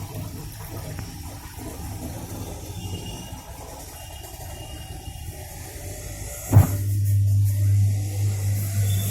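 An LG Fuzzy Logic 11 kg top-load washing machine with a faulty drain valve and a burst pipe drains with a steady watery rush, then a sudden thump at about six and a half seconds and a louder, sustained low hum as the spin starts.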